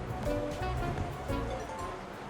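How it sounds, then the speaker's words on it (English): Steady heavy rain pours down outside in the A Hat in Time video game, a continuous dense wash of noise with no talking over it. "Still pouring it down outside."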